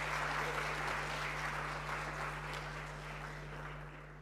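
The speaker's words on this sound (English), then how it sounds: "Let's have a louder round of applause for that discussion." A conference room audience at a fintech festival gives a round of applause after a panel discussion, a dense steady patter of many hands over a low electrical hum, gradually fading.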